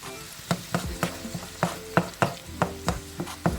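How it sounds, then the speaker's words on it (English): Lime juice and Worcestershire sauce sizzle in a hot pan with seasoned ingredients, with a steady frying hiss under a regular series of sharp scraping stirs, about a dozen in a few seconds, close up. "let that lime juice and Worcestershire sauce kind of cook off a little bit."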